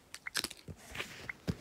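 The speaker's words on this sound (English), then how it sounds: "let me just stop crunching" Crisp bites and crunching from someone eating a snack close to the mic, a quick run of irregular chewing crunches with short gaps between them.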